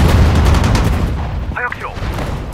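Gunfire crackles in the World War II strategy game Sudden Strike 4, a dense burst of shots heard close at first, fading back as a voice briefly calls out.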